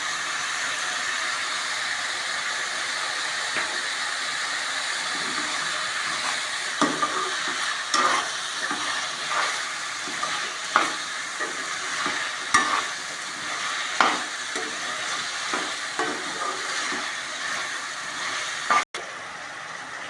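Mushrooms sizzle steadily in a pan while a spoon stirs them, giving occasional scraping clicks and knocks over a constant hiss for a long stretch without voices.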